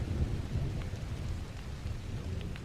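Steady rain patters over a low rolling rumble of thunder, a dense, continuous storm sound with no voices.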